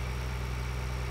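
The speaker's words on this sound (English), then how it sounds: "Cruising through the streets with my mower attached to my tractor." A tractor engine with a mower attached, driving through town streets in Farming Simulator 2013, gives a steady, low idling drone with even humming tones and no breaks.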